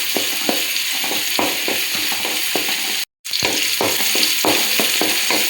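Onions and curry leaves sizzle steadily in hot oil for a Mangaluru-style clam sukka, with a spoon scraping and clicking against the pan at irregular intervals; the sound drops out briefly partway through, then resumes.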